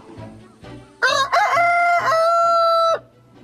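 A rooster crows loudly and close by, one long cock-a-doodle-doo with a sustained final note, preceded by a few soft clucks.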